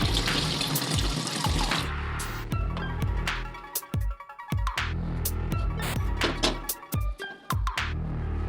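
Masoor, moong and chana dal lentils are rinsed under a running kitchen tap, with water gushing steadily, then splashing and sloshing as the lentils are stirred and the flow breaks into uneven pours and drips.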